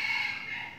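A hen gives a short, bright clucking call, clear and close, heard alone in a children's English lesson about farm animals.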